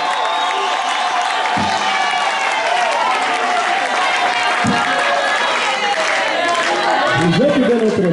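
A church congregation applauds and cheers for Jesus, sustained clapping mixed with excited voices and ululating cries filling the hall, with a preacher's voice over the crowd.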